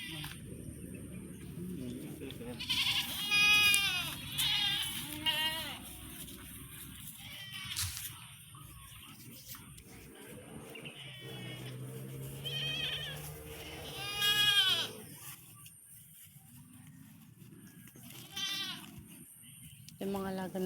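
Goats bleat repeatedly, several wavering calls near and farther off, scattered among people talking outdoors.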